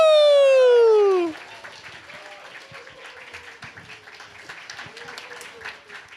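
A church congregation applauds and cheers during a Sunday worship service as a children's group is welcomed to perform, with steady clapping and whoops continuing at moderate level after a loud opening whistle-like cheer.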